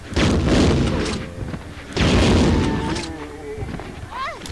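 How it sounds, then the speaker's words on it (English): Two heavy booming blasts from a grenade launcher in Resident Evil 2 (1998), each a loud broadband thump with a decaying rumble, about two seconds apart, followed by quieter game sounds. "let's just use the grenade launcher"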